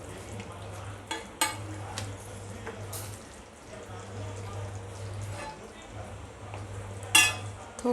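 Eggs being stirred into a simmering egg gravy in a pan on low heat, a soft bubbling sizzle with intermittent spoon scrapes and clinks, faint and close, over a steady low hum.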